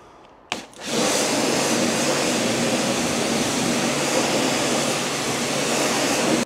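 A sharp click sets off a strong, steady hiss of water rinsing a car's plastic bumper, close and loud, running without a break until it cuts off at the end.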